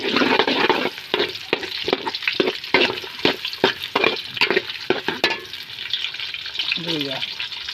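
Onions fry in a pan for batchoy, a broad steady sizzle under a run of sharp utensil clicks and scrapes during the first five seconds, then a softer hiss with a voice briefly heard near the end.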